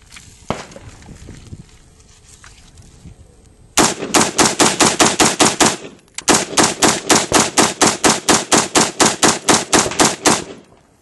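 An AR rifle, caked with dirt and dust and run with its dust cover open, fires rapid strings of loud, close shots: one stray shot, a burst of about ten, a brief pause, then a longer even burst of about eighteen.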